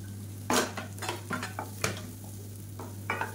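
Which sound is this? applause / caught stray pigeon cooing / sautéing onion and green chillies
sautéing onion and green chillies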